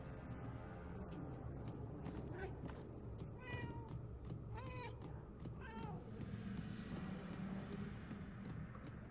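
A cat in the Murdered: Soul Suspect video game meows repeatedly, with several drawn-out cries in a row at moderate volume over a low ambient rumble.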